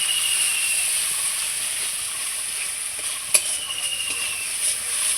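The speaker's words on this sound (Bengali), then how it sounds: "মশলাটাকে খুব সুন্দর করে আমি ভেজে নেব এখন" A spice masala with salt and turmeric fries in a pan, giving a steady, fairly quiet hissing sizzle with a sharp tap and a few light scrapes of the spoon partway through.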